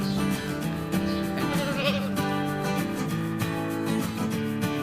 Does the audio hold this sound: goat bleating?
yes